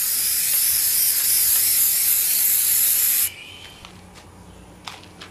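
A continuous spray hisses loudly onto a wooden subwoofer box board for about three seconds, then cuts off, leaving quiet room noise and a few faint taps.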